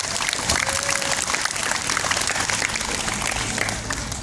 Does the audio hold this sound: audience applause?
yes